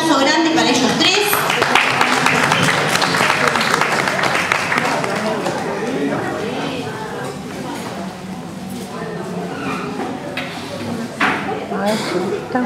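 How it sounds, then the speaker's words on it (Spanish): An audience at an open mic event claps, with dense scattered clapping mixed with talking and crowd murmur, tapering into lighter sporadic claps and a few sharp knocks. "un aplauso grande para ellos tres"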